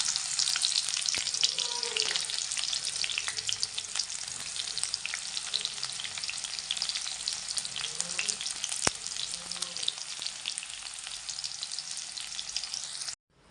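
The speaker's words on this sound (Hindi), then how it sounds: "गाइस लहसुन ब्राउन होने लग गया है तो मैं अब डाल देती हूँ उसमें प्याज" Onion frying in a pan with browning garlic, a continuous crackling sizzle with scattered pops and occasional stirring, close and fairly loud, cutting off abruptly at the end with no speech.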